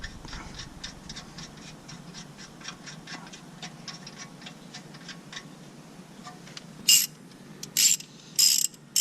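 A bolt being tightened on the steering parts of a Dodge Caliber SRT-4, with a rapid ratchet wrench clicking steadily up close, then a few louder sharp metallic clanks near the end.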